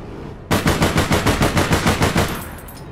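Automatic gunfire in the APB Reloaded shooter game: a sustained burst of about a dozen rapid, evenly spaced loud shots, close and punchy, with no talk over it.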